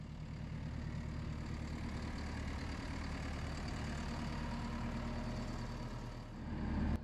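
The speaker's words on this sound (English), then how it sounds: "The plow hooked up to the skid steer." A tracked diesel skid steer fitted with a snow plow idles in a steady, low rumbling drone, fairly faint throughout, swelling slightly near the end.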